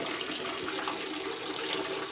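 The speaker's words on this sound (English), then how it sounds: "So far, my tub is still filling up with water and the solution." Water gushing steadily into a bathtub as it fills with water and cleaning solution, a constant splashing rush with small bright spatters, close and alone.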